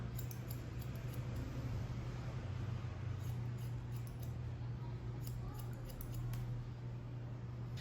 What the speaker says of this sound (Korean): 시자스 오버콤으로 조금 면을 부드럽게 만들어 주도록 하겠습니다.